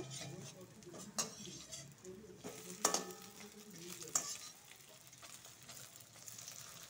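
Pumpkin fritters in hot oil give a steady sizzling bed with several sharp clinks and scrapes of a utensil as they are turned, fairly close, no talk.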